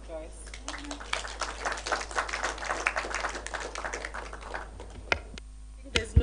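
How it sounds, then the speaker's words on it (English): Audience at a climate summit gives a round of clapping, a moderately close patter of hands that swells and then fades out after a few seconds, followed by a couple of sharp knocks. "Let's clap for Joyce."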